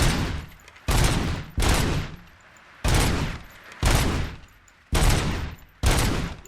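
Loud, close gunshots from the Robocop Rogue City video game, seven heavy blasts spaced roughly a second apart, each with a booming, decaying tail, no talking.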